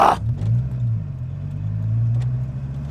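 Dodge Viper V10 with 121K miles, driven gently and low in the gears, gives a steady, loud low rumble that holds even and close throughout, with a brief mid-range burst at the very start.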